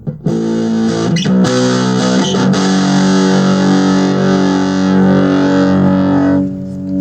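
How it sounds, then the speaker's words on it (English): A loud, heavily distorted electric guitar chord through an AXL Thin amp rings out at full gain, sustaining thick and buzzy for several seconds before cutting off. "a pretty nice tight distortion there"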